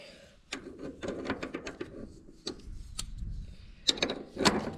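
Wrench working loose the carburetor drain bolt on an Oliver 77 tractor with an ill-fitting tool: a series of close metallic clicks and ratcheting scrapes, irregular bursts with short pauses between.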